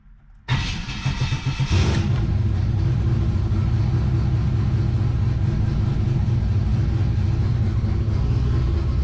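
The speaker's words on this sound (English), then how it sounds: "this hasn't started in a couple of days, so let's see how the cold start is" A turbocharged E85 engine with Holley EFI cranks and fires on a cold start, catching abruptly and settling into a loud, steady, rumbling idle close by with no talking.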